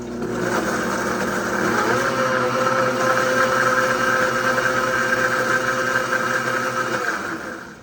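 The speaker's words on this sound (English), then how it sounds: "And I'm going to blend this up." Countertop blender whirs through a protein noodle batter, a loud steady motor drone that holds constant for several seconds before cutting off at the end, with no talk over it.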